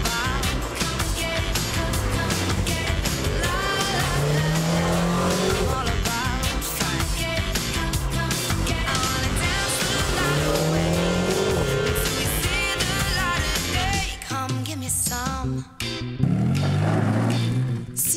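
McLaren GT sports car engine driving near the Place du Casino in Monaco, a loud continuous engine note rising and falling with gear changes, sustained revving with a brief drop near the end before surging again.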